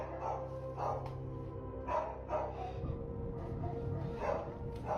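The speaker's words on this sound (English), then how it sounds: "One night, the family dogs start going nuts and Ray goes to investigate." Dogs bark repeatedly at night in a horror story, sharp woofs at an uneven rhythm over a low droning background.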